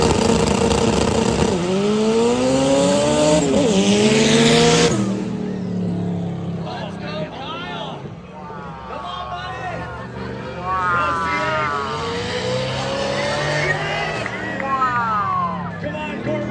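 A Corvette accelerates hard down the strip at a spectator drag event at the Freedom Factory, its engine revving loudly with rising pitch sweeps, then fading as other engines and crowd chatter carry on underneath.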